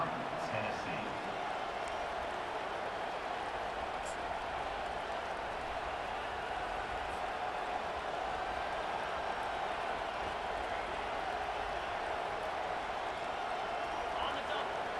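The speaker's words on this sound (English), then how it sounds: "listen to this crowd noise. This stadium is vibrating" Steady, dense roar of a packed stadium crowd at a college football game between Alabama and Tennessee during a timeout, a continuous wash of noise with scattered shouts, loud and unbroken throughout.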